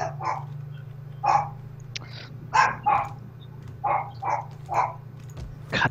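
Hunting dogs of a war-dog unit in Total War: Rome 2 barking in a series of sharp, mid-distance yaps over a steady low battlefield hum, with a pause between each bark.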